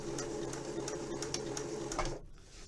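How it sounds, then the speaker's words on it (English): A sewing machine stitches fabric for a 1950s-style hair tie, a rapid, steady mechanical whir with repeated needle ticks, heard close up before slowing at the end. "So I pop that down and do a couple more stitches."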